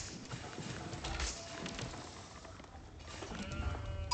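Sheep bleat faintly in the Age of Empires strategy game among soft clip-clop and in-game effects, with a couple of short calls mixed into a busy, low-level background.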